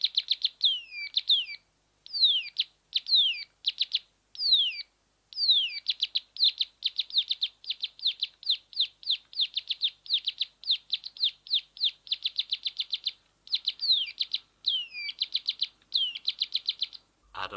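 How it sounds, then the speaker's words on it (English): A bird sings in winter, with loud, clear repeated downward-sweeping chirps that quicken into rapid trills, broken by short pauses and heard alone. "This bird is also singing in winter time."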